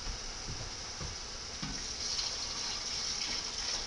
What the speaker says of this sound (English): I'm going to keep adding the water to it until it sort of covers just right to the top of the carrots